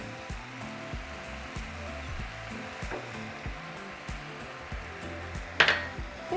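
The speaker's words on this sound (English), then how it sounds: "now we're just going to break down our meat and allow it to cook between 7 to 8 minutes" Ground beef sizzles in a pan for a walking taco casserole, a constant close hiss with occasional soft clinks and scrapes from stirring.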